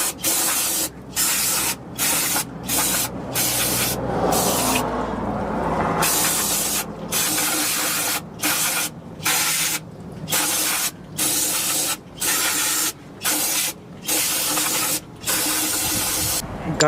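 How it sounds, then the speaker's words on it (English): Degreaser sprays onto a car differential being prepped for welding: a series of loud, close hissing bursts separated by short regular pauses, with one longer gap partway through and no speech. "I have to get my degreaser, shoot it all up in there, get all that out"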